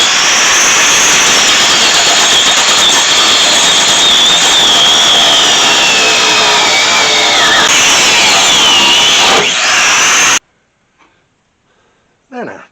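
An abrasive cut-off wheel slices through an old front shock absorber on a 1964 Ford Falcon, a loud, sustained high-pitched grinding whine that shifts in pitch under load and then abruptly stops, leaving quiet.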